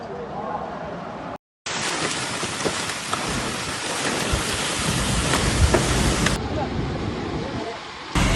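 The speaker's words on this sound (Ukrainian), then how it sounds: "Саудівська Аравія накрив шторм з проливними дощами кілька днів тому." Heavy rain pours down during a thunderstorm in Saudi Arabia, a dense steady hiss close by that continues throughout, cut by a brief break, with voices faintly audible in the background.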